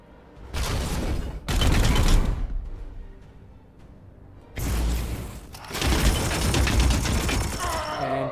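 Gunfire in the video game Warhammer 40k: Chaos Gate - Daemonhunters, loud dense bursts of automatic fire in several long volleys separated by short pauses, with a brief voice at the very end.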